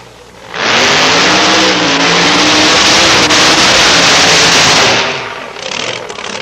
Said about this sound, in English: Jeff Aaron, a big smoky burnout in the export side.